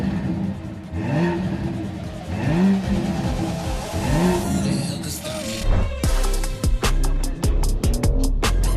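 A BMW X3 M50 with quad round exhausts revs repeatedly from close by. Several rising and falling engine sweeps give way to sharper blips and pops toward the end, with no talking.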